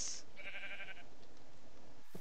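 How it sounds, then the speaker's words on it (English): A Minecraft sheep gives a short bleat in the game, nasal and fairly faint, heard alone over a quiet background. "Sheep's over there."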